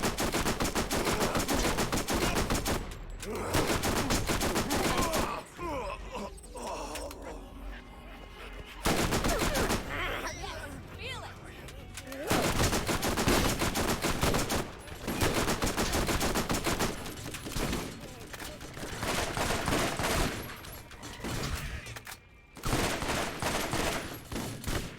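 Heavy gunfire from a gun in the video game Borderlands: long, loud rapid-fire bursts broken by short pauses, nearly continuous across the stretch with no talk over it.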